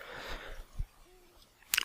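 Night ambience in The Legend of Zelda: Ocarina of Time forest cutscene: a soft, low owl hoot with faint bird calls, ending in a brief bright chirp, quiet and distant.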